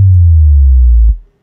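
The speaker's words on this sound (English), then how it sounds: "Nice little sub drop." An 808 bass sub drop from the XSub plugin gives a loud, deep sine-like boom that glides steadily lower for about a second before cutting off sharply.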